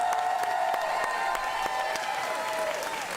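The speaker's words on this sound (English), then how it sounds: "Let's give Senora Cuppy a big round of applause" An audience at a school back-to-school event claps steadily throughout, a fairly faint, even round of applause heard from some distance.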